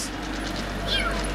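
A cat meows faintly from under or inside a parked car on an October evening in Alanya, a short thin call over steady low background noise.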